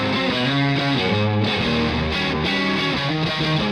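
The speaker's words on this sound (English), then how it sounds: "Let's start with the first test with some overdriven tones." Heavily overdriven electric guitar through an mVave G-Tank v2 amp modeler plays a chugging riff of thick distorted chords, loud and continuous with no voices.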